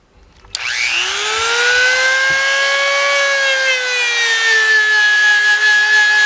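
A Dremel rotary tool with a polishing wheel works on metal, spinning up abruptly into a loud, steady high-pitched whine that holds near-constant pitch, dipping slightly as the wheel loads against the part.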